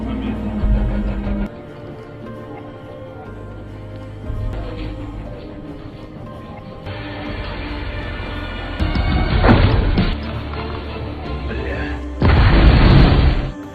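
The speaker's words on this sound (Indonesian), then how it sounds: "Revan berhasil menghabisi Seri dan meledakkan 1 orang sniper lainnya" Explosion in a sniper war film, deep booming bursts with heavy low rumble, one loud blast near the end over a dense cinematic soundtrack, with no talking.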